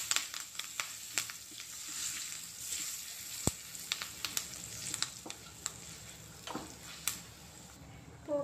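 Curry leaves crackle and sizzle in hot tempering oil with asafoetida for a coconut chana dal dish, a steady close frying hiss broken by sharp pops and spits, with no talking.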